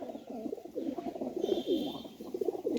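A female Pakistani Teddy pigeon coos in low, rolling phrases that repeat steadily and sit close and clear throughout.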